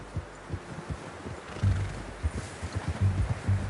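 A horse in the video game Red Dead Redemption 2 clip-clops along at a steady walking rhythm, its muffled hoofbeats soft and low against a quiet background hiss.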